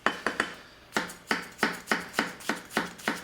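A Tsutomu Kajihara Damascus gyuto knife chops through an onion on a board, three quick crisp cuts followed by a steady series of evenly spaced, close, clear strokes with no talking.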